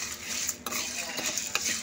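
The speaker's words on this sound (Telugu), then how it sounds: "సో వీటన్నిటిని మనము దోరగా వేయించుకోవాలి" Dried red chillies are roasted and stirred in a pan. A metal spoon scrapes and clinks against the pan in quick, close strokes over a light sizzle, with no speech.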